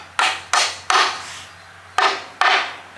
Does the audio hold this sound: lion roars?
no